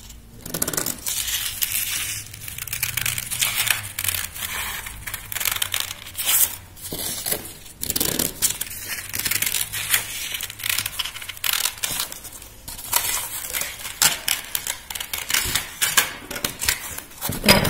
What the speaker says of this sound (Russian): Берем ножницы и вырезаем.